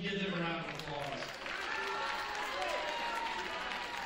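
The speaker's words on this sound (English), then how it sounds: "Give them a round of applause." Crowd in a school gym at a varsity women's basketball game applauding athletes, a continuous wash of clapping and crowd murmur with talk over it.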